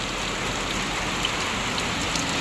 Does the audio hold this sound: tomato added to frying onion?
no